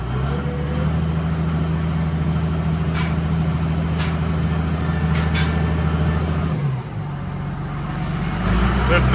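An old tractor engine idles and runs steadily on a farm in Minnesota winter cold at -10F, a loud continuous low drone that shifts in pitch near the end as the load changes.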